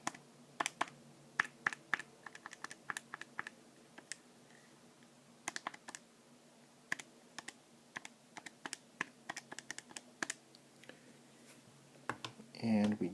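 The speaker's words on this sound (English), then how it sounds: "let me just type that out." Fingers type on a computer keyboard in quick bursts of soft clicking keystrokes, close and quiet, with short pauses between runs.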